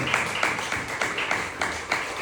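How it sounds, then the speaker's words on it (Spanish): Church congregation claps along in a steady rhythm, a series of evenly spaced hand-claps filling the hall at moderate volume. "Denle un aplauso a Cristo Jesús"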